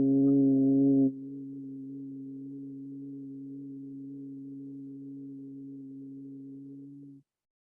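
A steady, low voiced hum on a long out-breath during a guided meditation session. It starts slightly louder and richer for about a second, then settles into an even, sustained drone for roughly six more seconds before stopping cleanly, with no talking.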